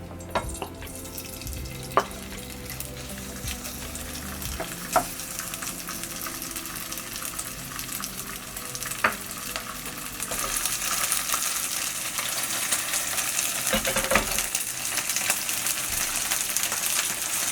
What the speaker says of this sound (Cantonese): 放蝦